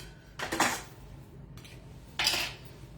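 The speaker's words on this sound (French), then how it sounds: "dans mon tornado, mon hachoir manuel, je vais venir y mettre mon oignon" Onion pieces dropped into a manual pull-cord chopper: two separate bursts of clattering plastic and rattling pieces, one early and one near the end, with quiet pauses in between and no speech.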